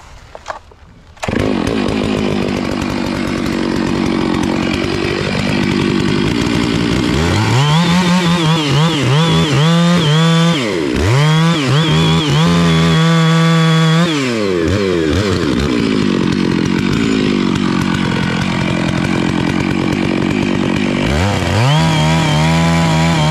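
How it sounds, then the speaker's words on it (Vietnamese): A chainsaw bites into the trunk of a steeply leaning melaleuca tree. The engine revs up and bogs down repeatedly through long, loud cuts, with brief idles between them. "Chàm hơi khó cưa chút."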